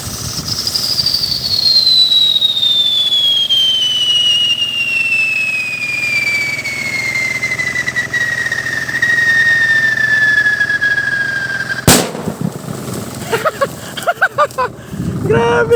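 Homemade scream whistle firecracker in Zamboanga, Mindanao: a long loud shrill whistle sliding steadily downward in pitch for about eleven seconds, then a sharp bang, followed by crackling and a voice.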